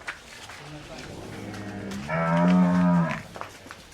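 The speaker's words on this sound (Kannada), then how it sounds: "ಹಸು ನೋಡ್ರಿ" A cow lets out a single loud, drawn-out moo, rising from a low rumble to a full bellow before fading.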